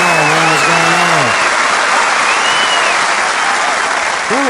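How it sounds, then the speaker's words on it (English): Applause sound effect played back on a podcast: a loud, continuous wash of clapping and crowd noise throughout, with brief whoops or vocal cheers near the start and end. "let's run the applause back"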